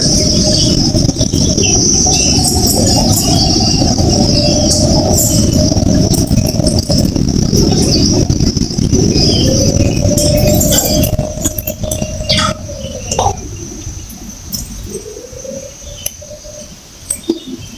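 Caged Gouldian finches, including a green black-headed pair, give thin chirps and calls over a constant loud hum, which drops away near the end to leave scattered bird sounds.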